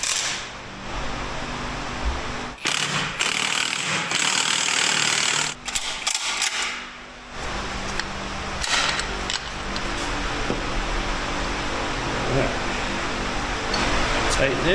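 Ratchet tightening a bolt on an NP231 doubled transfer case for a Chevy S10 build in a shop, with a steady fan or air-conditioner hum throughout and sharp metallic clicks scattered across it, under a voice.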